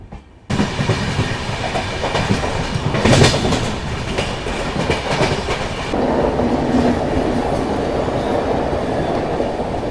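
The Sampark Kranti express from Hazrat Nizamuddin to Yesvantpur runs along the rails, a loud continuous rumble with rhythmic clickety-clack of wheels over joints and a steady roar that shifts in tone partway through.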